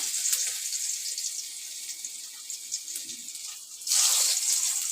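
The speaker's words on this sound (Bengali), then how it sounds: "প্রথমে আমি রসুন গ্রেট করা রসুনটাকে আমি দিয়ে দিচ্ছি তেলের ওপর" Grated garlic frying in oil in a pan, giving a soft, steady hiss of sizzling that grows noticeably louder near the end.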